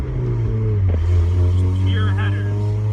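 A car with straight headers and no muffling throbs with a loud, deep, steady engine drone close by, with a slight swell in revs partway through and a voice speaking over it.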